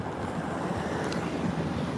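Wind from a severe thunderstorm gust front sweeping over New York City, a dense, steady roaring rush buffeting the microphone, with no voices.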